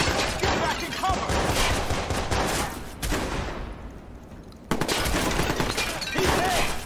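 Sustained gunfire in a video game shootout in Watch Dogs, dense loud rattling bursts with a short lull midway before the shooting resumes, up close.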